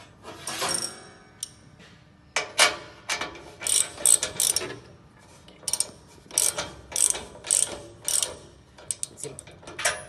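Ratcheting clicks come in short irregular bursts while a level probe is tightened on an SAB machine. The clicking is close and fairly quiet, with brief pauses between bursts and no talking.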